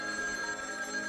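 A cartoon telephone rings with a steady, bright electronic bell tone that fills the whole short moment, loud and close with no talk over it.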